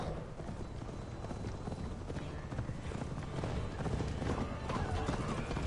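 Horse hooves pounding in a rapid, continuous gallop in the Assassin's Creed Valhalla video game, with a whinny mixed into the busy, moderately loud game ambience.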